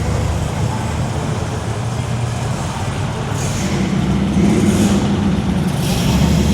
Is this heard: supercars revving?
yes